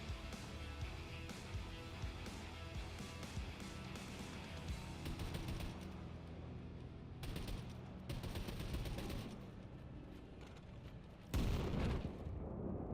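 Wolfenstein 2 game combat with steady gunfire, then a loud booming grenade explosion near the end, dense and continuous with no clear speech.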